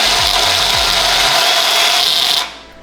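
A 3/8-inch bit drills holes for a 5-lug wheel hub swap on a project car, a steady loud grinding rasp lasting about two and a half seconds before cutting off, with a few low thuds at the start.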